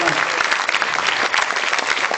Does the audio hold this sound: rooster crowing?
no